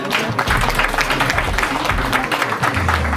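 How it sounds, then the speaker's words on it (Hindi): Loud, steady applause fills a hall at a teachers' award ceremony as an honoree is called to the stage, dense hand-clapping from a large audience with a faint voice briefly over it. "जोरदार तालियां हो जाए।"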